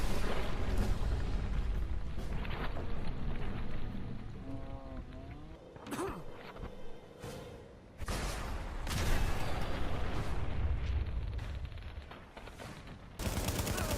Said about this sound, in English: Mega explosions.